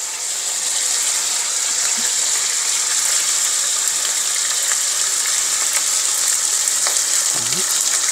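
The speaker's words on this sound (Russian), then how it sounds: "Уже начинает подавать звук жареного мяса." Meat frying in a pan for goulash, a steady bright sizzle and crackle throughout with occasional faint scrapes of stirring.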